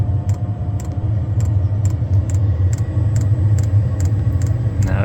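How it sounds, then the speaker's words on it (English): A diesel heater installed in a studio lorry spools up just after ignition, a steady low rumbling drone with a regular ticking pulse from the fuel pump, close and continuous. "it sounds like it's just ignited now. Spooling up"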